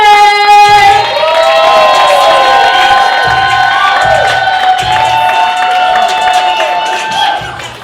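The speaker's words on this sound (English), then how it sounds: "make it really loud for Jamal Coleman!" A comedy show audience cheers and applauds loudly for a comedian being introduced, a steady crowd roar with whoops, while sustained music tones play through it.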